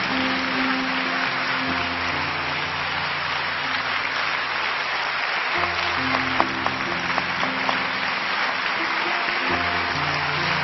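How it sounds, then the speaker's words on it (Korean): A church congregation applauds its pastor at a late-night Holy Week worship service, with loud, steady clapping that fills about ten seconds over sustained musical tones. "다시 한번 우리 큰 박수로 우리 목사님 모여드리고 축복합니다."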